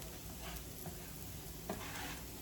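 Sautéed onions, carrots and celery with thyme and garlic are stirred in a pan, a faint continuous sizzle with soft scraping strokes, no talking.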